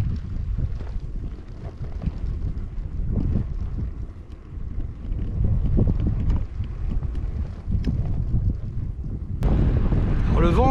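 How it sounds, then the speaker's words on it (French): Strong wind gusts roar into the microphone at a busy seaside beach on the Normandy coast, buffeting loudly and continuously with a harsher gust near the end. "Le vent s'est enfin levé"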